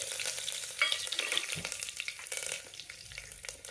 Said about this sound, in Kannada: ಎಣ್ಣೆ ಸ್ವಲ್ಪ ಕಾದಾದ್ಮೇಲೆ ಅದಕ್ಕೆ ನೀವು ಸಾಸಿವೆ ಹಾಕ್ರಿ ಒಂದು ಟೀ ಸ್ಪೂನ್ ಸಾಸಿವೆ ಸಾಸಿವೆ ಚಟಪಟ ಅನ್ನಕ್ಕೆ ಚಾಲೋ ಮಾಡಿದ್ಮೇಲೆ ಜೀರಿಗೆನೂ ಹಾಕ್ರಿ